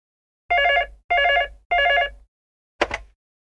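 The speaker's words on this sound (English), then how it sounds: "Anna receives a phone call from her friend Peter." A telephone rings with three evenly spaced electronic trills, followed by a short clatter as the receiver is picked up, close and clear with no talk.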